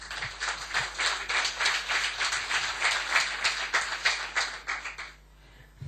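Men in a church congregation clap together at a service, a dense rhythmic burst of many hands that fills the room steadily for about five seconds, then stops abruptly and leaves faint room noise.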